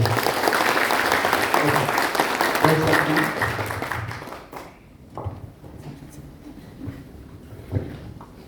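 Audience applauds for Dan Fly at an advocate program session, loud sustained clapping for about four seconds that thins out into scattered claps and fades away.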